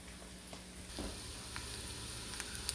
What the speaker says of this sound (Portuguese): Nosso recheio já está chegando no ponto de fritura ideal